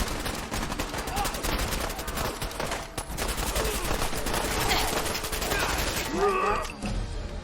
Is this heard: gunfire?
yes